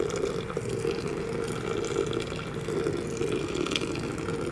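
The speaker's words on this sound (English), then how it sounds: "for 30 grams, we're going to go ahead and put in about 500 grams of water." Water poured from a kettle into a French press onto 30 grams of ground coffee, about 500 grams in all: a continuous close splashing, gurgling pour at a steady level, with no voices.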